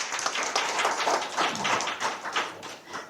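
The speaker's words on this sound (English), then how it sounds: "Yeah, you can clap for that" An audience at a press event claps for climber Alex Honnold after his Taipei 101 ascent. The applause is a fairly quiet, even patter of many hands that lasts about three seconds, with no voices over it.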